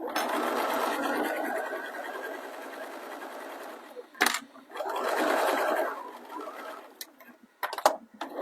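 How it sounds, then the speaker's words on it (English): Domestic sewing machine stitching a small swim bag, easing over a bulky seam of about five fabric layers; a steady close whirring run, a brief stop with clicks, then another burst of stitching and a few handling knocks. "Just tease your machine over that bulky seam there, because you've got 3 or 4, 1, 2, 3, 4, 5 layers of fabric there."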